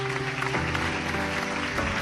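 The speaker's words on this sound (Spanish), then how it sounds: "Un aplauso fuerte a Jesús." A church congregation applauds for Jesus, a dense sustained wash of many hands clapping together, loud and continuous across the whole moment with no speech over it.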